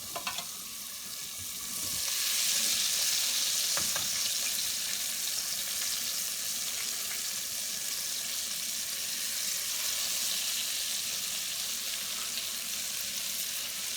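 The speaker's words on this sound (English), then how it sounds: "In the oil we have that sizzling" Steady sizzling of chicken deep frying in hot oil, a continuous crackling hiss that swells after a couple of seconds and stays loud.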